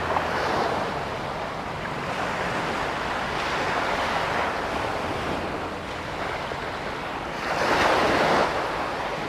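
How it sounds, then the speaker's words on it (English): Sea waves break on Jomtien beach in Thailand in the daytime, a loud, continuous roar of surf swelling and fading in slow surges, mixed with wind buffeting the microphone. "Hopefully you can hear my voice in the mic over the sea."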